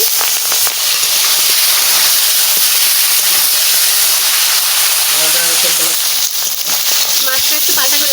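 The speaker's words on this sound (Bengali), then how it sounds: "তেল গরম হয়ে গেছে মাছ ভাজা বসাই দিচ্ছি" Hot oil sizzles loudly with a steady, dense hiss as singhi catfish fries. A voice speaks briefly over it toward the end.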